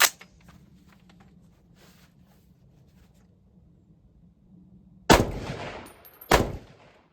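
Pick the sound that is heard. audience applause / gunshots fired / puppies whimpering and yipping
gunshots fired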